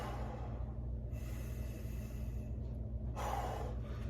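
Slow, deep belly breathing during a workout stretch, soft inhales and exhales heard up close and fairly faint, with no talking.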